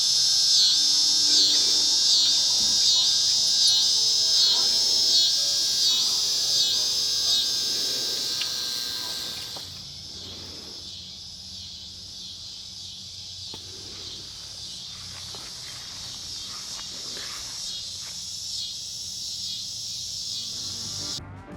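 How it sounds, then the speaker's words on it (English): Dense, loud night chorus of frogs and cicadas, a steady high shrill buzz that drops noticeably quieter partway through, leaving softer chirps and croaks. "As loud as the frogs and cicadas were, it was music to my ears."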